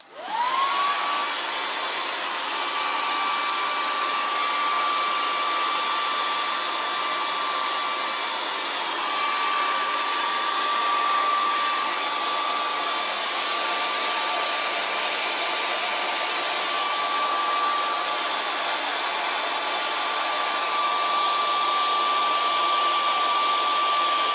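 A hair dryer blowing on a wet-on-wet watercolour sky painting, spinning up quickly then holding a loud, steady whirring hum with a constant whine throughout.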